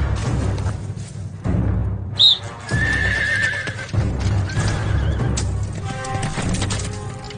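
Horses whinny amid steady clip-clopping hooves in a dubbed Hollywood action film scene, with a sharp high neigh rising over the loud, continuous trampling of several animals.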